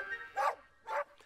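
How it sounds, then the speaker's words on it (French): Kitty, a dog in an animated railway cartoon, lets out two sharp, close barks about half a second apart, with a faint whine between them and no talking. "Kitty aboie, mais ça ne sert à rien."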